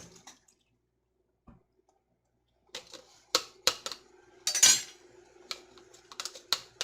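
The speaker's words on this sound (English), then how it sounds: "I'm going to pack them down with just a wooden spoon, get them in there as nice and tight as I can." A wooden spoon packs banana peppers down into a jar, giving scattered clinks, taps and wet squelches against the glass after a quiet start, small and close with brief sharp knocks.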